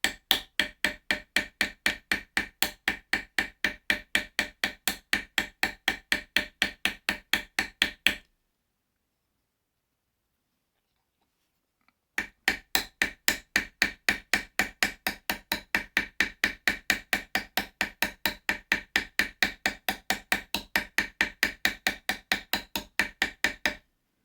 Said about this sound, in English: So we still have plenty of peening left to do